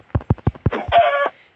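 A chicken in the video game Minecraft gives a quick run of sharp clucks followed by a longer drawn-out squawk, close and clear with no talking.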